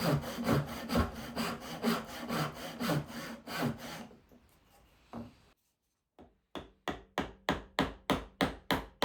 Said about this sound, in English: I'm using the saw to cut into this lower portion of the knob to remove a good chunk of material